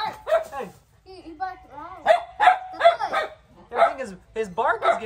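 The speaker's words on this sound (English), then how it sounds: "His bark is getting louder." A dog barks and yips repeatedly in short, uneven bursts, close and fairly loud, with some whimpering tones between barks.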